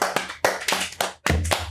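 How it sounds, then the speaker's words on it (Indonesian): A small podcast studio group claps for a guest, Bang Felix, in a few short bursts of hand claps with brief pauses between them, close by and fairly loud, with no talking. "Tepuk tangan dulu."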